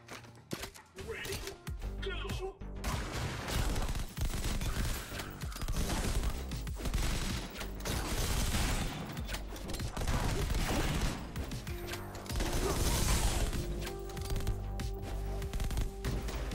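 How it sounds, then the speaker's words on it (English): Rapid gunfire in the game Mullet Mad Jack rattles in dense bursts, nearly continuous and loud, with clanks and impacts mixed in and a voice speaking now and then. "bullet sounds good."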